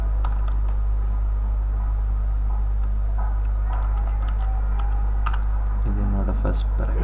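Steady clicking of keys on a computer keyboard while text is typed, rapid irregular taps over a constant low electrical hum, with a voice speaking briefly.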